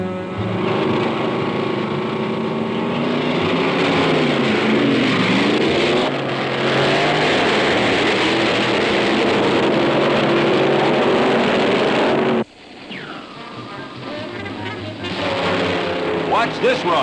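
Engine of a 1965 drag racing dragster roaring at full throttle during a run, a loud sustained blast that cuts off abruptly and then rises again, with faint voices beneath.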